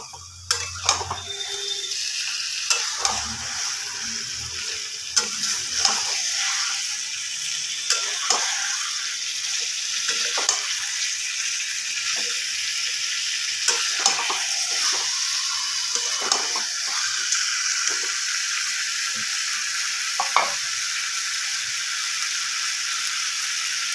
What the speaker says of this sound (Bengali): এবার এটাকে ভালো মতো কষবো আর কন্টিনিউয়াসলি চিকেনটাকে নাড়াতে হবে